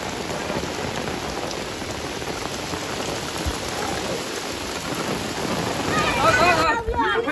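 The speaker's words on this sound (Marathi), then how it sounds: "ते बघा पाऊस" Heavy monsoon rain pours down steadily in Konkan, a dense, unbroken hiss that swells a little louder near the end.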